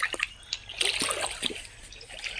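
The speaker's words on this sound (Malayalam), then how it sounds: "അതിന് കുറച്ച് വെള്ളത്തിൽ കൂടെ ഇറങ്ങി പോയാലേ പറ്റുള്ളൂ" Splashing footsteps wading through shallow stream water near Vagamon, a few uneven sloshes and trickles close by in a quiet outdoor setting.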